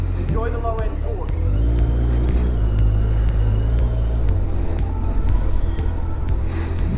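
A Suzuki Bandit motorcycle, a heavy 550-pound bike, rumbles with deep low engine tones while riding, and its pitch shifts under acceleration beneath speech.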